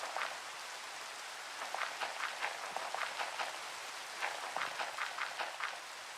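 Rain falls in the video game Minecraft as a steady soft patter on surfaces, with brighter clusters of drop hits recurring every second or so.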